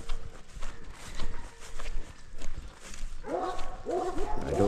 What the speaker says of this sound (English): I believe that's Domino barking in the background